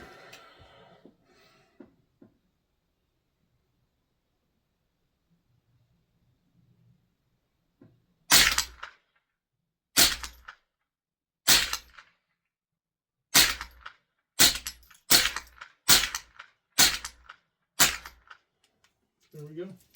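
A Tippmann M4-22 rifle fires at steel targets, about ten sharp, close cracks in an uneven rhythm after a quiet stretch, with brief talking near the start.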